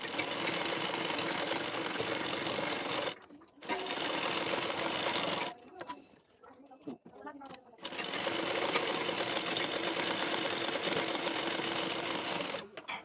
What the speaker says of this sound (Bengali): এবার বেল্টের পার্টের ঠিক কানা বরাবর করে দুটি চাপ সেলাই দিয়ে নেব।